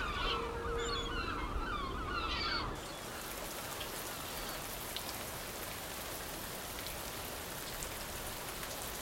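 Steady rain pours down in a continuous hiss that fills the background, with some birdlike honking early on before the rain takes over.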